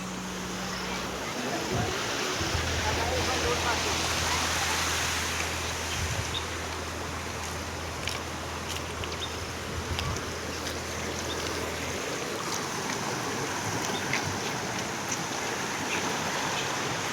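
Floodwater rushing across a road in Banaskantha after heavy rain, a continuous near wash of flowing water with a low engine-like hum early on and a voice speaking briefly over it.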